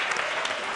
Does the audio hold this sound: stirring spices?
no